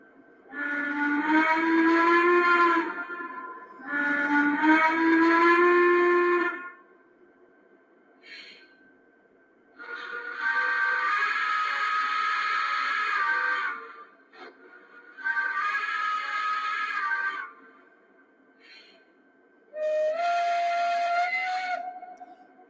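A model S2 Turbine locomotive's whistle sounds, controlled from a Cab 3 app: five sustained chord-like blasts, with pauses between them. The last blast has a different tone, all fairly clear with no talk.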